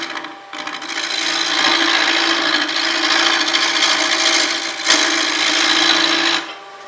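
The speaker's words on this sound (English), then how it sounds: "one thing scrapers are really good at is if you have a few little bumps like I have right here, you can scrape them right off pretty darn easy" A wood turning scraper scrapes bumps off a spinning wooden piece on a lathe, making a steady, loud, rasping hiss that runs for several seconds with one brief dip, and no talk over it.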